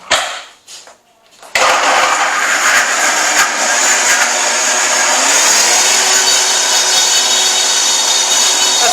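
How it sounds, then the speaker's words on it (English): A kitchen blender switches on after a short quiet start, blending salmon poaching liquid with a loud, steady whirring roar that holds evenly for the rest of the clip. "So now I'm going to blend it up right in my nifty blender."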